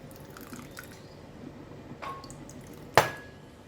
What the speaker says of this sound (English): Put in a bit of water